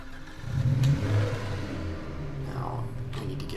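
A car engine in the video game Project Zomboid revs up and hums steadily at moderate loudness, settling into a smooth driving drone with a faint whir.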